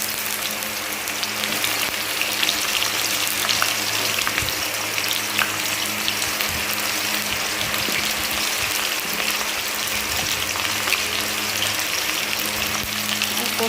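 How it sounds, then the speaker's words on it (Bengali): Pointed gourd (potol) frying in hot oil crackles and sputters in a steady, fairly loud hiss, with scattered pops and faint clatter from the pan and kitchen along the way. "ততক্ষণ ভাজি।"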